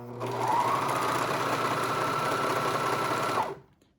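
A sewing machine runs steadily as stretched elastic is stitched to a knit waistband, one continuous close whirring hum for about three seconds before it stops, with no talking.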